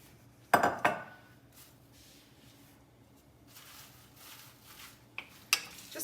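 Pasta ingredients being stirred in a single pan for tomato basil pasta, with a loud clatter of utensil against pan early on, then quieter scraping and a couple of sharp clinks near the end.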